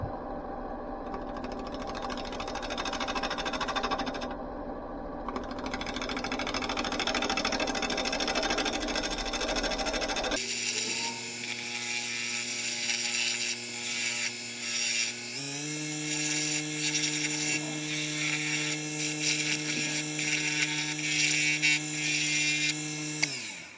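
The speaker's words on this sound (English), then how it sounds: "Using the Robert Sorby 3/8 bowl gouge again to start taking out the middle." A wood lathe spins a natural-edge birch bowl while a 3/8 Robert Sorby bowl gouge cuts out the middle, a steady close whine and scraping hiss that shifts pitch partway through, with no talk.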